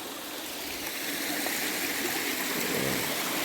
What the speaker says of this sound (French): un petit ruisseau.